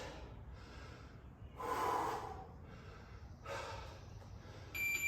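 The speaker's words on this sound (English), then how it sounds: "Time to start controlling your breathing." Heavy breathing follows a set of burpees, with several loud close inhales and exhales, rough and snorting, spaced a second or so apart.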